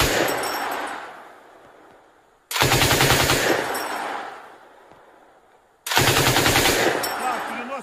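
Loud, close machine-gun fire during combat in the war in Ukraine: three long bursts of rapid shots, each one fading off before the next starts, with a brief voice in between.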